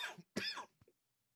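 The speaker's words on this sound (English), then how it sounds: "Not with this cough." A person gives a short coughing fit, two strong close coughs followed by a smaller throat-clearing rasp, then silence.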